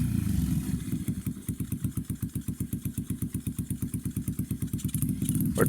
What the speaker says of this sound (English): As you can see, it's idling